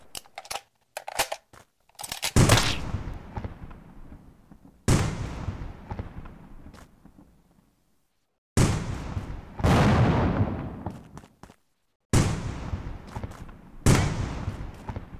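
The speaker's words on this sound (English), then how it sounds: "Oh gosh, someone's shooting." Gunfire in a video game rings out as sharp, loud broadband bursts, an uneven cluster early on, then several heavier blasts that each decay slowly, separated by brief silent gaps.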